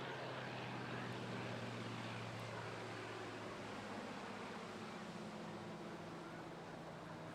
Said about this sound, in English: Two completely different aircraft.